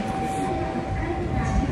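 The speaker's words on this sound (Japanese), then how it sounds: "ちょっと今地下鉄待ちです。" Subway train at a Fukuoka station, a steady continuous rumble with a sustained tonal whine, heard close by from the platform while a person waits, with faint talk mixed in.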